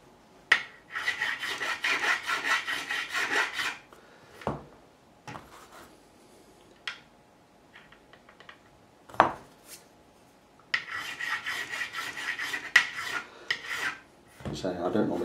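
Metal file levelling the frets on a Gibson Firebird kit guitar, two bursts of fast rhythmic rasping strokes close up, with quieter scrapes, taps and tool handling in between.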